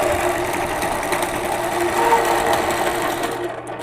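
Domestic sewing machine stitching during free-motion machine quilting on a two-block quilt, a steady close whirring hum with rapid needle rhythm running throughout, then stopping abruptly near the end.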